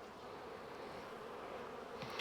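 Buzzing of honeybees from a very large overwintering colony at an open hive in an apiary, a dense, steady hum that stays close and loud throughout, with no voices.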